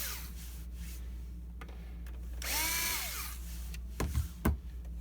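A power screwdriver with a Phillips 1 bit backs Phillips screws out of the plastic housing of a Fujitsu ScanSnap iX500 scanner, giving close, short whirring bursts over a low steady hum, with a longer rising whine in the middle.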